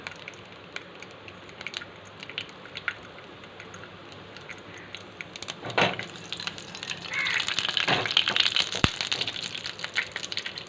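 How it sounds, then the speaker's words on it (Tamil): Mustard seeds splutter in hot oil, starting as sparse crackles and building midway into a busy, close sizzling and popping that carries on to the end. "கடுகு நல்லா பொரிஞ்சு வரட்டும்."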